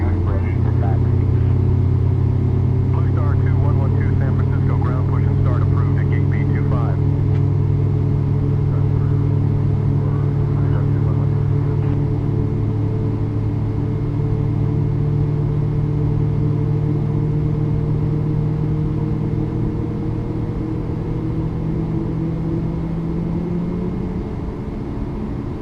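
Engine number 1 of a Boeing 737 MAX spins up as heard from inside the cabin, a low droning hum with rising tonal whine that builds steadily and holds loud throughout.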